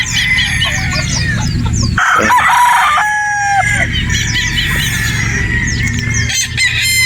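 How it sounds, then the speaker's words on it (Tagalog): Roosters at a game farm in Batangas crow loudly and close by, with other birds chirping and clucking in the background. "Guwapong manok to."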